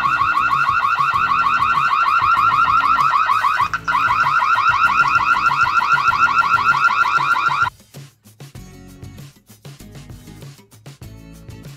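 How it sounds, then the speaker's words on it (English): An IMILAB video doorbell camera's alarm siren blares, very loud and close, as a rapid warbling electronic tone that runs continuously for several seconds with one brief dropout, then cuts off, leaving quieter background clatter. "The alarm system is very loud. It scares bad guys away when you activate it."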